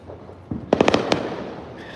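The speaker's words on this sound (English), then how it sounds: "see the fireworks behind me?" Fireworks bursting over a Brooklyn street on the Fourth of July, with a deep thump followed by a quick run of four or five sharp cracks and one more bang, echoing against a steady outdoor background.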